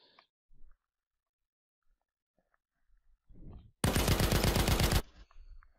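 A machine gun fires a single sustained rapid burst of about a second in an Unreal Engine game, loud and close, preceded by faint clicks and a short thump, then silence.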